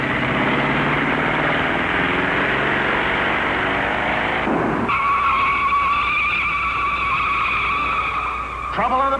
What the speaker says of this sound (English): His car was battered by the retaining wall in a 300-foot slide